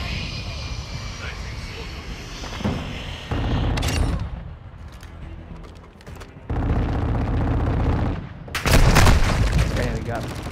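Scattered gunshots in the shooter Call of Duty: Modern Warfare II, a few sharp cracks over a droning engine-like background, with a voice talking over it.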